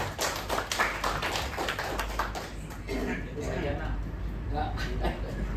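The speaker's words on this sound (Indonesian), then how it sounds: "coba tepuk tangan saya lah" An audience claps at a union branch meeting for port workers at Tanjung Priok, with a brief burst of sharp hand claps at first, then scattered clapping that fades under someone speaking into a microphone.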